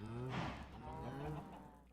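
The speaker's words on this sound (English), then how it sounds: "Got the cow farm pretty large." A single drawn-out Minecraft cow moo, low and slightly wavering, sounds close and clear for about two seconds against quiet.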